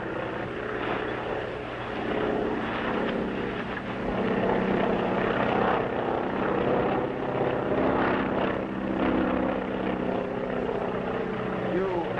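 A small plane carrying two men drones overhead in a 1939 Royal Mounted adventure film, a steady, loud propeller-engine hum that holds throughout without fading, with voices talking over it.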